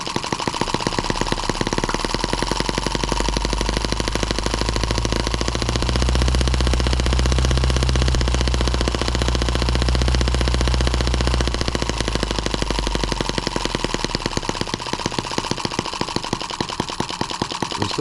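A Chinese M17B engine runs under throttle, a loud, fast, rough mechanical chatter that swells as the revs rise in the middle and then settles back toward idle, with no voices over it.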